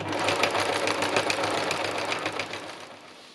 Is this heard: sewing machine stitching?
yes